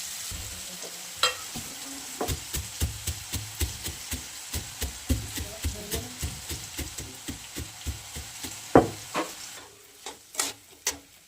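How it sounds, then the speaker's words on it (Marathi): Potatoes frying with peanuts roasting in a pan, a soft sizzle under rhythmic scraping and stirring strokes, each spoon pass a distinct clack repeating steadily and close. "बटाटा परततो तोपर्यंत आपण शेंगदाणे फुटून घेऊया"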